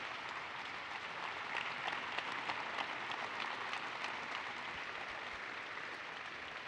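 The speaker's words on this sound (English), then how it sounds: "give a round of applause to Avidrone" Faint, distant audience applause at the DARPA Lift Challenge awards ceremony for the drone team Avidrone, an even, steady patter of clapping that holds at low level throughout.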